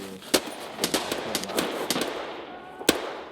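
Gunfire in Escape From Tarkov: a series of sharp, separate shots, some in quick pairs and others spaced apart, ringing out at mid distance with a trailing echo, no talk over them.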